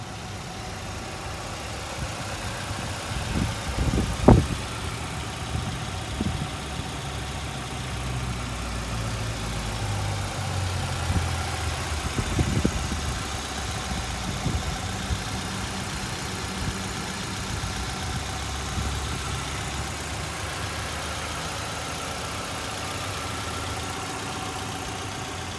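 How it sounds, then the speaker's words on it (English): A 2012 Hyundai Elantra Touring engine runs at a steady idle, a low continuous hum with a few brief louder revs or knocks early on, heard close and without talk. "I'm gonna go ahead and get the engine started."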